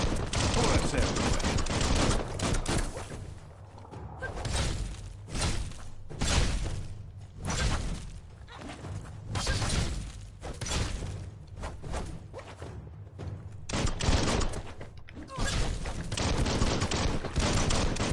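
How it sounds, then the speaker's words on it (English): Gunfire in the video game Biomutant, with rapid, repeated loud bursts of shots firing again and again with short gaps between volleys, sustained throughout. "Bullets everywhere."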